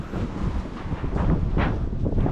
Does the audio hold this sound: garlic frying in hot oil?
no